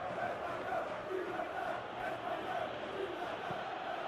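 A stadium crowd in the PES 2025 football video game roars continuously, a dense, steady wash of cheering with no gaps, heard throughout at moderate level.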